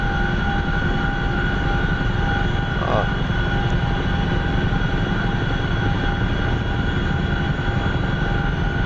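CH-47F Chinook helicopter taxiing toward the runway at an Afghan air base in the DCS flight simulator, a steady loud rotor and turbine drone with a constant whine running throughout.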